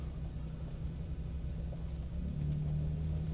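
A Gen 2 Ford F-150 Raptor pickup accelerating, heard from the cabin as a low engine rumble that rises in pitch near the end over steady road noise, no speech.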